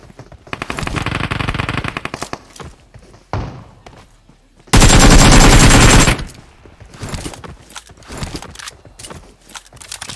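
Rapid automatic gunfire in PUBG Mobile, with a long burst of close machine-gun fire followed by a second loud, dense burst and scattered shorter volleys and single shots.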